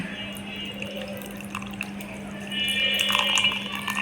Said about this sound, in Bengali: তেঁতুলের কাত বের করার জন্য তেঁতুলগুলোকে ভিজিয়ে ফেললাম